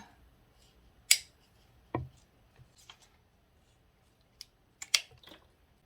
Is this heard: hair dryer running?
no